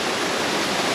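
Bình An Waterfall near Nha Trang, Vietnam, roars as a steady, dense wash of falling water that fills the whole clip, loud and unbroken with no voices.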